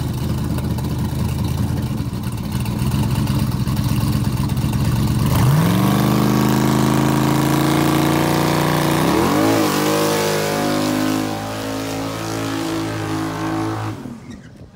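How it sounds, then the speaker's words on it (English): A heavily modified car engine revs hard during a burnout, a loud sustained roar that climbs in pitch twice, then settles into a high steady howl before cutting off abruptly. "Doesn't know how to do a mediocre burnout."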